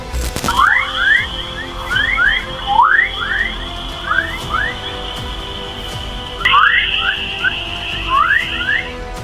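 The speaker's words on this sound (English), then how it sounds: "High chirps and beeps are heard, with a rising and lowering frequency" Eerie electronic chirps sweep up and down in quick repeating clusters over a steady high whine and faint static, like strange radio signals; radio waves from Saturn's auroras.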